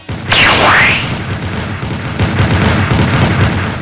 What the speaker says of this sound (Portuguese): esses tiros não me afetam quase nada